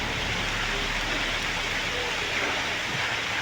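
Steady rain falling outdoors, a dense, even hiss that holds without a break, with low background rumble mixed in.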